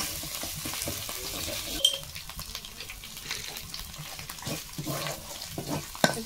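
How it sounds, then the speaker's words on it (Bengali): Ground spice paste of cumin and turmeric is fried and stirred in a pan while cooking a crab and bamboo shoot dish, with a soft continuous sizzle broken by scraping stirs and a few sharper clinks. "দিয়ে মশলাটা ভালো করে কষিয়ে নিচ্ছি আমি।"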